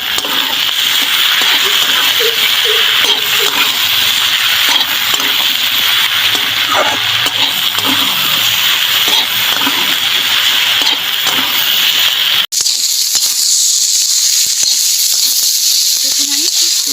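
Shrimp, radish and chopped tomatoes fry in a pan for a mixed vegetable curry, giving a loud, continuous sizzle and hiss that carries on past an abrupt cut, with faint talk in the background.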